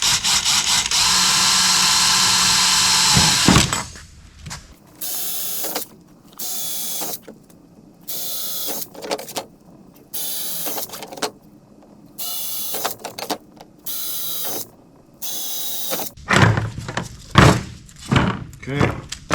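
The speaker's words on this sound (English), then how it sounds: "We're going to drill with a number 40" A drill with a number 40 bit bores holes in a Cessna 172 aircraft instrument panel, a steady whine first, then repeated short loud drilling bursts separated by pauses, with a final stretch of choppier bursts.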